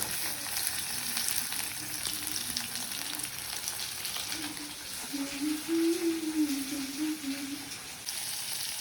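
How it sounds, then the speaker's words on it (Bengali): Onion fries lightly in a pan before chopped tomato goes in for gravy pasta; a soft, steady crackling sizzle runs throughout at moderate level, joined midway by a faint tonal hum. "তো পেঁয়াজটা আমরা হালকা ভাজবো, খুব একটা ভাজবো না কিন্তু বন্ধুরা, হালকা মতো ভেজে নেবো।"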